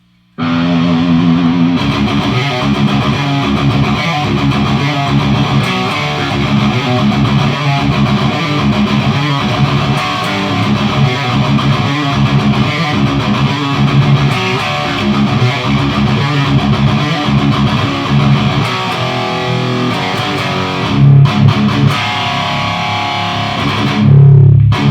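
Heavily distorted electric guitar riff through a Peavey 6505 MH amplifier boosted by a Westminster Effects Augustine clean boost pedal, loud and tight with rhythmic palm-muted chugs and sustained chords, playing alone throughout.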